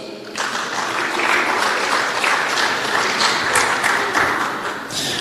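Dense, sustained audience applause at a ministerial presentation event, starting abruptly and holding loud and steady throughout.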